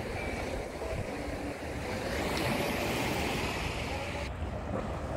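Ocean waves wash and surge continuously at Repulse Bay beach in Hong Kong at high tide, with strong wind buffeting the microphone and a faint voice in the background.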